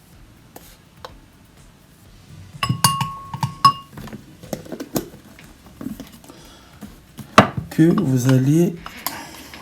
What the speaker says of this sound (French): vous prenez du café que je vais mélanger